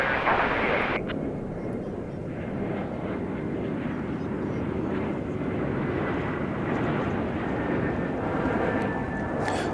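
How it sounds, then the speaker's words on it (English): American Airlines Flight 60 from Tokyo Narita on final approach to runway 18 right at DFW airport gives a loud, sustained jet engine roar with broad rumble and whine, heard from a distance outdoors. "On final approach now to runway 18 right is American Flight 60 coming in from Narita Airport in Tokyo"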